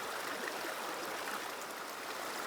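Stream water flows steadily around a wader's legs, a close, even babble and trickle with no voices over it.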